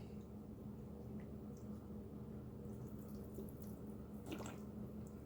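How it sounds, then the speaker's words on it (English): Rubbing alcohol is poured to rinse a computer motherboard, giving a steady, continuous liquid splash and trickle at close range, with a brief louder spatter near the end and no talking. "I'm literally just going to rinse it off with rubbing alcohol"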